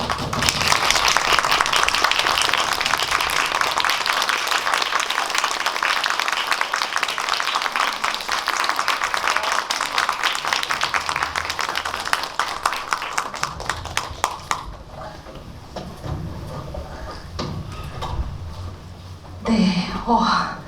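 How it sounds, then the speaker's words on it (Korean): An audience at a film screening talk for 'Dream Palace' at Megabox Seongsu gives loud, sustained applause to welcome guests, then it tapers off into scattered claps and murmurs with some talk. "저희 들어오시면 큰 박수 부탁드릴게요."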